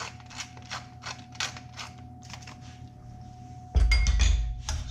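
A spoon taps and clinks against a pot while Bordelaise sauce is stirred, giving a string of light, regular clicks before a louder clattering knock near the end. No one speaks.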